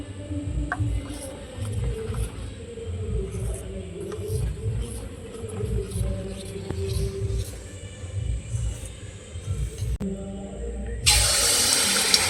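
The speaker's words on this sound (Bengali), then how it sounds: "এক হাতা করে ব্যাটার দিব আর এক একটা করে পোয়া পিঠে ভেজে নেব" Malpua pitha batter made with ripe palm fruit is ladled into hot oil to fry. A low steady rumble runs throughout, then a loud, bright sizzling hiss bursts up near the end.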